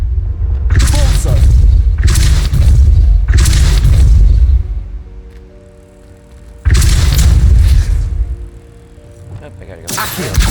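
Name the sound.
Confringo spell explosion in a video game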